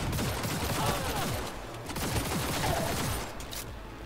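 Rapid gunfire from a weapon in the video game Cyberpunk 2077 rattles in dense, sustained bursts with a heavy low-end rumble, loud and continuous throughout.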